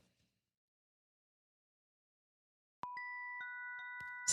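Chimes ring out after nearly three seconds of silence, struck in a few quick hits whose clear, sustained metallic tones overlap and hang in the air, near and moderately loud, with no talking.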